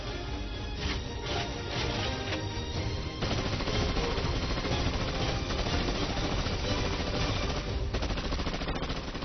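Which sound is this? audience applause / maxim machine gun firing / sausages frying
maxim machine gun firing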